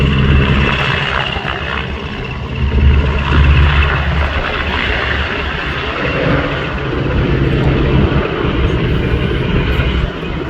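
A Sokol helicopter flies at the RIAT airshow, a loud, steady rotor and engine roar with low droning throb that swells and eases slightly as it passes at a distance.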